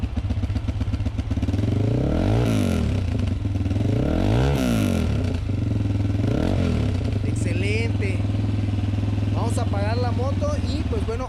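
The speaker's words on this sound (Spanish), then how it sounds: "ahí está el sonido de ambas motocicletas" Two Italika VX 250 motorcycles, a 2021 and a 2017 model, rev their exhausts up close in loud repeated rising-and-falling bursts over a steady idle, with a voice talking over the later part.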